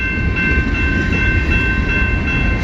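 CN's M33 southbound freight rolls steadily past nearby, a continuous loud rumble and rattle of railcars with no voices.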